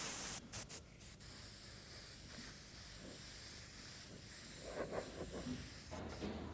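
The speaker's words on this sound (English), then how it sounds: "The airbrush I'm using is still my HPC top feed." An HPC top-feed airbrush sprays paint through a freehand stencil onto a car hood mural, producing a soft, steady hiss of air with brief breaks and flutters as the trigger is worked.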